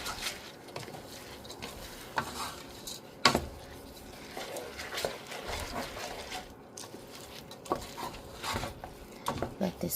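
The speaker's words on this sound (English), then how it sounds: "I'm going to saute this." Rice being sautéed in a pot for an oxtail stew meal, a continuous busy scraping and stirring with scattered clinks and a faint sizzle, close by, with some background voice.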